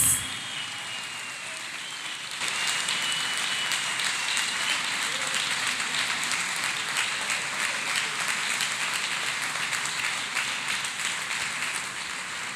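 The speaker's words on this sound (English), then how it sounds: "Let us clap hands for Jesus." A church congregation claps hands for Jesus, a dense, steady patter of many hands that swells after a quieter opening and keeps going throughout, with no voices.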